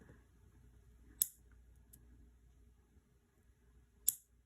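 Two crisp scissor snips trim a press-on nail down to length, well apart and close by, with near silence between them.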